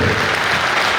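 Loud, steady applause from a seated audience at a Hindi poetry gathering held during an annual Jain fair, a dense wash of clapping filling the whole second without any voices over it.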